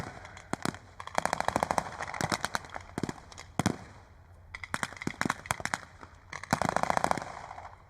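Bursts of machine gun fire crackle through a World War II battle reenactment at Tankfest 2025, rapid rattling volleys repeating in clusters at mid distance with short pauses between, no talking over them.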